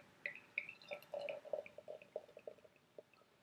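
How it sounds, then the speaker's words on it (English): Cascade Brewing Blueberry sour beer pours into a Three Floyds glass, a close run of small liquid splashes and drips over about three seconds with a faint fizzing carbonation hiss beneath, no voices. "It's just hissing away the carbonation."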